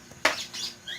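A pet violet turaco gives a single sharp, loud squawk at close range indoors, followed by fainter rasping and a thin high note.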